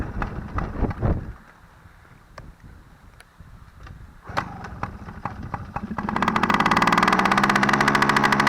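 A kids' dirt bike engine is kick-started with a few scuffing kicks, then catches and settles into a loud, steady, rapid idle close by.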